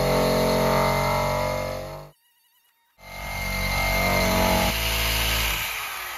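A Bauer surface conditioning tool with a 40 grit drum grinds loudly on metal, cutting out briefly for about a second before roaring back up and then winding down.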